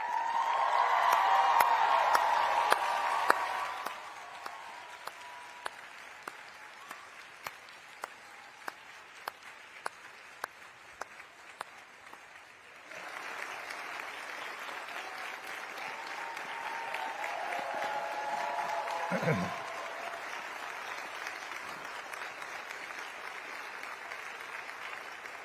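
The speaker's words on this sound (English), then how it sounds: "hearty round of applause." Audience at a commencement ceremony breaks into a loud, hearty round of applause for graduates' families and friends; clapping swells for several seconds, eases to a softer patter, then builds again with scattered cheers, filling the hall.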